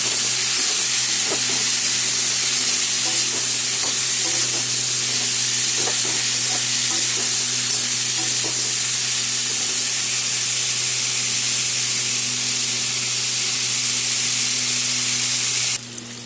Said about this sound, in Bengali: এখন আমি সবজিটা ভাজা করে নেব।